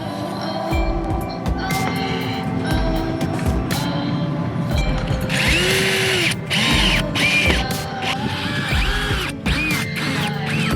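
A power drill bolts a Starlink satellite dish down onto a boat's roof, loud and close, with repeated whirring bursts and pauses and a stretch of grinding mechanical noise along the way.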